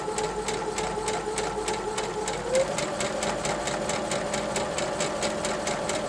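Sewing machine stitching quilt fabric, a fast even rhythmic chatter of needle strokes running steadily at close range for several seconds with no pauses.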